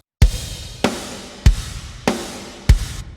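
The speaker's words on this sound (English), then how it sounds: "So I got programmed drums here that sound like this." Programmed drums hit five times at an even, slow pace, each a sharp kick-and-cymbal crash that rings out briefly before the next.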